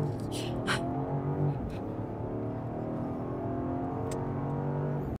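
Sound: BMW XM SUV engine accelerating

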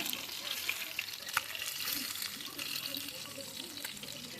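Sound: fish frying in deep oil

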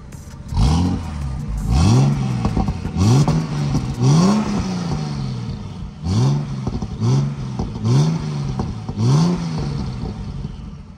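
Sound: tuned turbo SUV engine and exhaust revving

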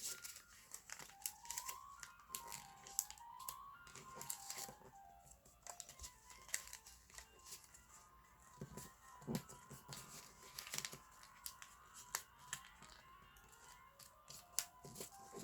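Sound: paper being folded for a paper spinning top

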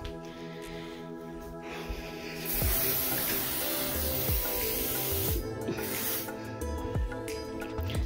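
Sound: cleaning spray being sprayed

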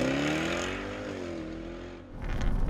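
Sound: sports car engine sound

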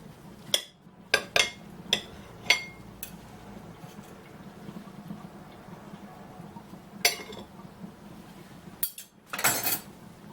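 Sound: knife cutting a beef and pork meat roll (zraz) on a plate

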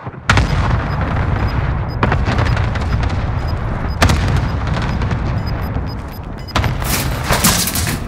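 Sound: cluster strike explosions in Warzone video game

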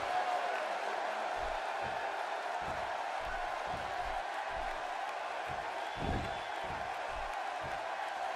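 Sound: wrestling crowd cheering in WWE 2K16 video game

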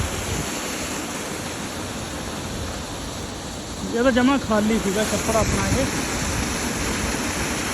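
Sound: drain water flowing into a village pond

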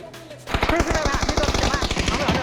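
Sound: gunfire in a video game

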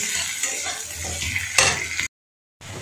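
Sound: frying chopped onion, ginger, garlic and chilli in a pan

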